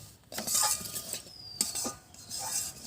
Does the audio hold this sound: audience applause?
no